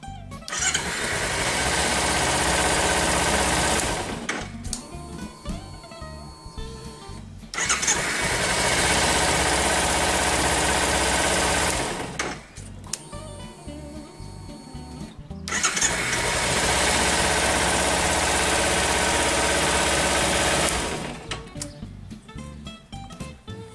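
A Kawasaki Ninja 250/300 motorcycle engine being started, three long loud bursts of engine roar separated by quieter gaps with clicks and idling rattle, close by with no talk.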